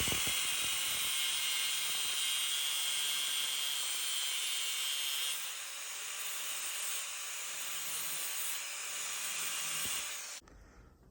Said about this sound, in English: I got those corners rounded off. I also beveled my ends here and ground down the ends a little bit